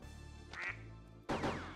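A cartoon duck quacks in the PS2 quiz game Buzz! Le Méga Quiz: a short quack, a brief pause, then a louder, longer burst of quacking over steady game music.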